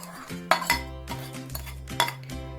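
A spoon stirs sugar into rice and milk in a pot for kheer, giving a few sharp clinks and scrapes against the metal in an irregular rhythm, close up and with no talk.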